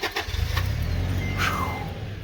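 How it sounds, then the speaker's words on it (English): Car engine starting up near at hand, a brief cranking catch that settles into a low steady idle, faint and alone. "Engine on."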